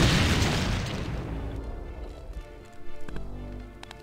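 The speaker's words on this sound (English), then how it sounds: "Grenade!" A loud grenade blast in Brutal Doom hits with a heavy boom at the start and rumbles as it fades, followed by scattered smaller pops and thuds.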